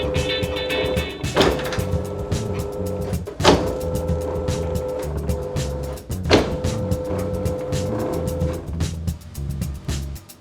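A pastry sheeting machine runs puff pastry dough with a steady mechanical whir and rumble, broken by three louder clunks as the dough passes and the rollers shift.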